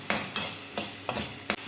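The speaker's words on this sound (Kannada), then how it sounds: "ಚೆನ್ನಾಗಿ ಫ್ರೈ ಮಾಡ್ಕೊಳ್ಳೋಣ" Onion, tomato and curry leaves fry in a hot tempering while a spoon stirs them, giving a soft steady sizzle broken by several scraping stirs close by, with no voices.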